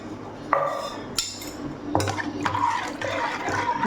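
Water splashes and pours into a pot of sambar made with home-roasted sambar powder, a couple of distinct glugging pours with clinks of the vessel, close and fairly loud, ready for a pressure cooker.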